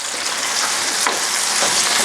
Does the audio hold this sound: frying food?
yes